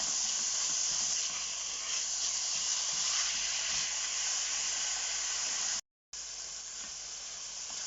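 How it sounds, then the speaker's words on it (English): Bacon frying in a pan as it nears cooked, giving a steady, loud broadband sizzle and hiss that holds without pause, broken only by a brief dropout near the end before the sizzle resumes. "this bacon is now just coming up to cooked"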